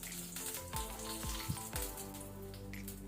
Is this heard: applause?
no